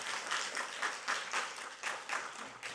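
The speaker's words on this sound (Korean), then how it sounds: "너무 감사하다는 한번 박수 한번 부탁드립니다." Church congregation applauding during a Sunday worship service, a moderately sized crowd clapping in a steady, slightly uneven rhythm at a fairly even, moderate level.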